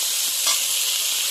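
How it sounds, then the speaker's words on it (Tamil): Cut eggplant sautés in hot oil along with onions, giving a steady bright sizzle with a brief stir near the middle; nobody talks. "நல்லா அந்த எண்ணெயிலே வதக்கணும்."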